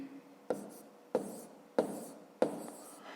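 Numbers being written by hand on paper make four distinct scratchy strokes, evenly spaced. The sound is close and fairly quiet, with no talk over it.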